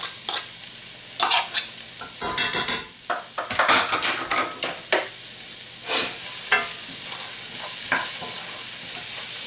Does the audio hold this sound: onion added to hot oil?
yes